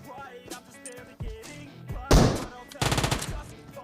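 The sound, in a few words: gunfire in the video game PUBG Mobile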